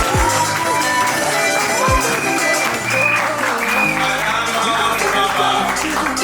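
Audience applause at a French civil wedding in a town hall, a steady, dense wash of clapping sustained throughout, with some music or tonal sounds running beneath it.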